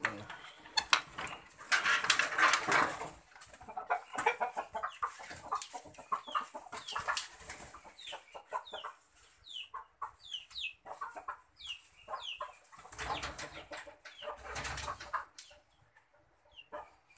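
Rooster and young chickens cluck in a coop, with scattered short chirps and clucks over clinking metallic clatter and brief bursts of noise, faint and intermittent, with occasional voices in the background.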